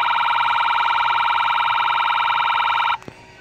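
A battery-powered Road Rippers toy ambulance sounds a loud electronic siren in a steady pulsing wail, which cuts off abruptly near the end and is followed by a small click.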